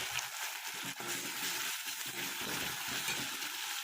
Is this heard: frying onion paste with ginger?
yes